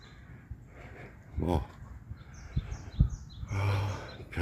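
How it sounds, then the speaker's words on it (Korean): Mountain birds and crows call intermittently outdoors, a few distinct caws and chirps scattered over a quiet background with some talking. "산새 소리 뭐 까마귀 소리"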